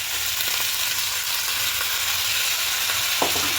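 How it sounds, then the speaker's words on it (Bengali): Salt, turmeric and ginger-green chili paste sautéing in a pan for a vegetable soybean dish, a dense, steady hiss of sizzling with faint stirring scrapes and one sharper knock near the end, close and unbroken. "আমি খুব ভালো করে এবার এটাকে কষিয়ে নেব"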